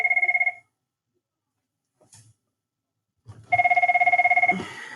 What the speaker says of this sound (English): My phone just rang, and I'll answer that in just a minute.